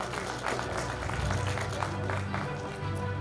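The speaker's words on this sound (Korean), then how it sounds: "여러분 박수 부탁드립니다" A crowd applauds at the opening ceremony of the 2021 Pohang Earthquake International Forum, with dense clapping filling a large room and a low background rumble, with no talk.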